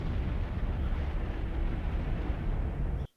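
Sci-fi spaceship explosion from a Babylon 5 space battle, with two ships destroying each other after jump engines malfunction: a sustained, dense rumbling roar that holds steady for about three seconds, then cuts off abruptly.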